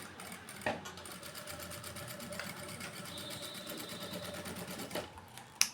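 Sewing machine stitching a blouse front dart, a steady fast rhythmic needle clatter running close and continuous, with a couple of sharp handling clicks.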